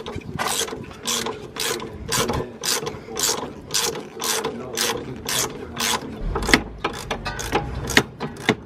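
Hand ratchet loosening a 12mm brake line bolt on the strut of an Acura Integra during a coilover install, a steady run of close, sharp clicking strokes in repeated bursts, with no talk.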